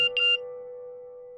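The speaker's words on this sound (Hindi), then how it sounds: "माया के मैसेज" A phone message notification tone: a brief bright electronic chime followed by a steady sustained synthetic tone, clean and close with no other sounds.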